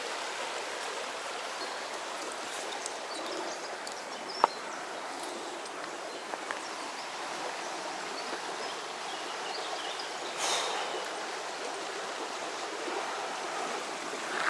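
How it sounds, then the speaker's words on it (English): The River Alyn in Wales flows steadily in spring, a broad, continuous rush of water heard close by and alone, with a couple of faint ticks and a slight swell near the ten-second mark. "The river Alyn."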